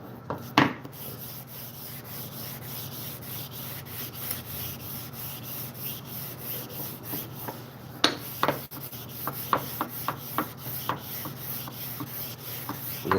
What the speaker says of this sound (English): And the sandpaper alone gets you a nice, clean, smooth finish.